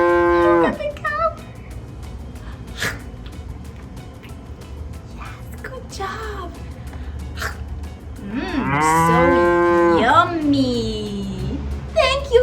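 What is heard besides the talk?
cow mooing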